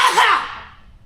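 A woman sneezes once, a sharp breathy burst up close that fades quickly, outdoors beside a HEMTT 10x10 military truck.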